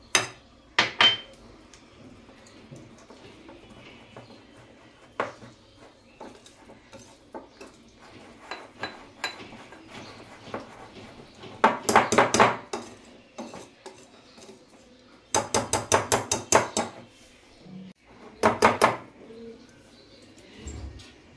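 Batter being mixed in a bowl with a utensil, with irregular clinks and scraping taps, some in quick bursts, close by and without talk.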